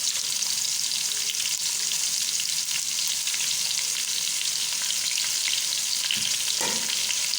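Two spoonfuls of garlic-ginger paste frying in hot oil with browned onions for a lobia curry, a loud continuous close-up sizzle with a brief stir or scrape near the end.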